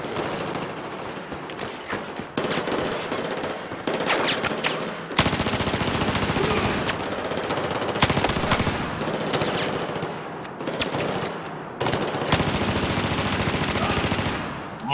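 Machine gun fire in the video game Battlefield 4 comes in dense, sustained bursts with short breaks between them, loud and close.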